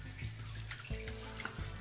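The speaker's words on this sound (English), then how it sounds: "what a lovely shower" A shower runs in The Escapists 2 prison game, giving a steady, soft hiss of spraying water with faint game sounds underneath and no talking.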